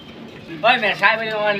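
A pigeon coos close by in a loft of racing pigeons, a short throaty burst of rolling notes after a quiet start, with faint background noise.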